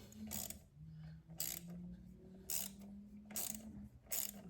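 A ratchet loosening the clutch cover bolts on a motorcycle, several short bursts of rapid clicking pawl spaced about a second apart over a low mechanical hum, close and clear.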